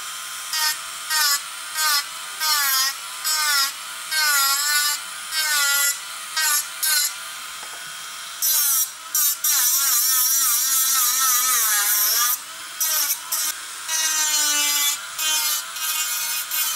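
New rotary burr bits on a hanging flex-shaft rotary tool carving wood: a high whining motor that repeatedly revs up and down in bursts, with harsh grinding rasp when the bit bites, close and loud.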